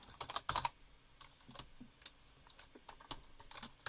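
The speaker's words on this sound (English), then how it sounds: "With a new layer, you can type the name of your layer," Quick clattering keystrokes on a computer keyboard while a layer name is entered in AutoCAD, close and fairly quiet in irregular short bursts without any talk.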